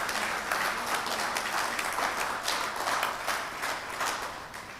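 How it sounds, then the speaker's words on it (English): An audience at the closing session of a regional foreign ministers' retreat in Skukuza, Kruger National Park, gives sustained applause, a dense, even wash of many hands clapping that lasts nearly five seconds with no speech. "I wish to propose that we clap hands for them and congratulate them for this work"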